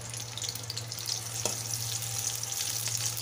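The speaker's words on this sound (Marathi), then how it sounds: "मिरच्या तेलात परतून घ्यायच्या चांगल्या" Green chilies fry in hot oil in a home kitchen pan, a steady bright sizzle with a low hum underneath and one brief stirring scrape partway through, close and continuous with no talk.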